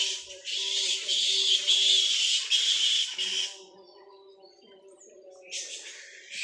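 Birds calling at dawn in a winter village among blossoming mango trees, with dense, bright chirping in two bursts, a quieter lull between, and a low murmur that may be a distant voice underneath.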